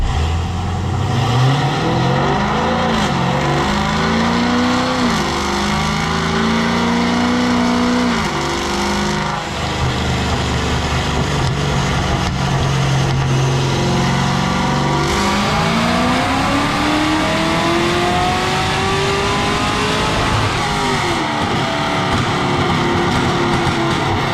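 A Cadillac CTS-V making over 600 horsepower runs hard on a dyno at a race shop, its loud engine droning and rising through long revving pulls before the sustained roar eases.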